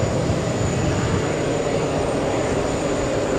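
Lufthansa airliner taking off at JFK Airport, a dense, loud, steady jet roar with rumbling low end and a thin high whine, continuous throughout.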